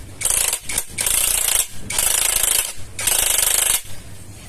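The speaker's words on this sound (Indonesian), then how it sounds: "Lalu bagian yang depannya kita kencangkan menggunakan kunci 22." Wrench working a nut on a Honda Vario 150 scooter's CVT, four sustained bursts of loud ratcheting, rasping noise separated by brief pauses, close up with no talking.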